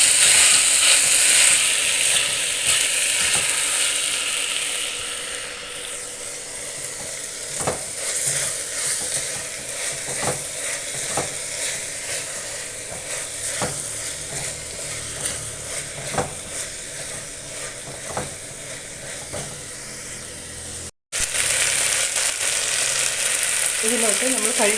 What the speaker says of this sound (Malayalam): തക്കാളിയും നന്നായിട്ട് വഴറ്റണം.